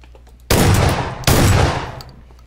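Two loud, close shotgun blasts in the battle royale game PUBG, each a sudden broadband boom with a long decaying tail, the second following under a second after the first.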